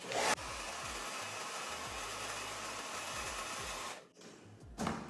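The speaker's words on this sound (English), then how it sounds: "I'm gonna use my hairdryer because again, I'm in a rush." A hair dryer blows with a loud, steady rushing whoosh for about four seconds, then cuts off briefly before switching back on.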